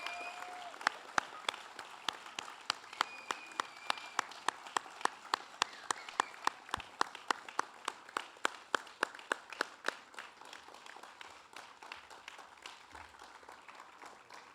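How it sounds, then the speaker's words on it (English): An audience at a United States Coast Guard Intelligence Specialist A School graduation ceremony applauds the graduating class with sparse, sharp claps that sound distinct and fairly close, holding a steady pace for about fourteen seconds before thinning slightly. "Would you please join me in a round of applause for the graduates of Intelligence Specialist A School Class 2405"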